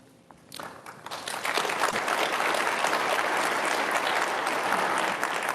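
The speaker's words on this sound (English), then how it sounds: "They were ready to clap before you even said anything." Sustained applause from a studio laugh track swells in after a brief quiet start, a dense, steady clatter of many hands that stays loud to the end.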